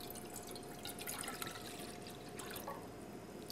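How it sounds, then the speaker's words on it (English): A cup of water poured into a saucepan, a continuous quiet splashing trickle with small drips, heard fairly close against a soft background. "So the first thing I'm going to do is put a cup of water into my saucepan."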